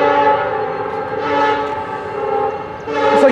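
A Norfolk Southern freight train led by an EMD locomotive passes close by, its horn blaring in a long, loud sustained blast that dips briefly and then swells again over the rumble of the moving train.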